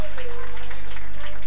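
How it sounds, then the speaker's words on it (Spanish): A crowd at a live outdoor celebration in Taco Ralo claps loudly in a brief burst, mixed with sustained tones from amplified sound and crowd voices. "El aplauso fuerte"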